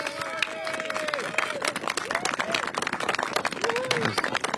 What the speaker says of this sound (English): So I'd like a kind of thunderous applause to thank him and the Parks Department.